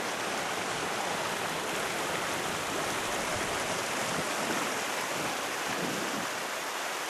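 The Pailón del Diablo waterfall on the Río Verde in Ecuador roars as a constant, dense, broadband rush of falling water, steady and unbroken throughout with no voices.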